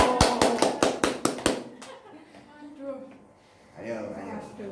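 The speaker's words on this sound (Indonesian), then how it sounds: "tepuk tangan lagi" A class claps hands in a quick run of about seven sharp, evenly spaced claps close by, then falls quiet as a teacher starts talking.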